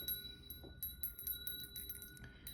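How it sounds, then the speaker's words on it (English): A small bell rung to open a tarot reading, its clear sustained ring hanging steadily through the moment over a faint, noisy room background. "let me just ring the bell"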